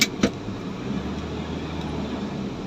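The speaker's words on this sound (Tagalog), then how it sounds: "Sobrang traffic" Heavy road traffic in Manila, a steady low rumble of car and vehicle engines droning continuously, with a couple of brief knocks at the start.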